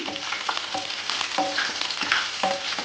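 Raw garlic fries in hot oil, a continuous close sizzle broken by repeated soft scraping taps of a spoon stirring it around the pan.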